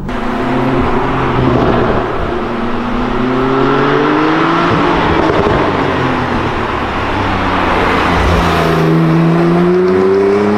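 A Porsche 991.2 Targa 4 GTS drives on the road, its engine droning loud and steady with rising and falling pitch as it pulls through the revs.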